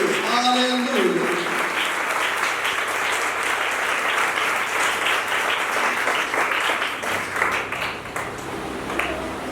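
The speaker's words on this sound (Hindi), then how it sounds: "यीशु के जलाल के लिए जोरदार तालियां बजाएं" A church congregation applauds loudly for Jesus during a worship service, with dense sustained clapping over the full length. Voices and cheers rise near the start, then fade into the steady applause.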